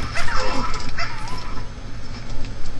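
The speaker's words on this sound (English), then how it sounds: "Oh, a dog." A dog in Fallout 3 yips and whimpers at close range in rough, uneven bursts, with busy game noise underneath throughout.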